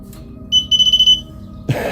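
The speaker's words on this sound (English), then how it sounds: "We had one beep." A cheap, repaired metal detector pinpointer beeping, giving a short run of rapid, piercing electronic pulses close to the microphone, followed by a rustling thump.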